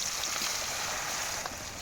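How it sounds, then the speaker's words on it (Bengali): Potato pieces frying in hot oil for a Bengali aloo dum, giving a steady, close hiss and sizzle that stays even throughout. "তোমার তেল গরম হয়ে গেছে, এবার আমি আলুগুলো অল্প অল্প করে এই আলুগুলো ভাজবো"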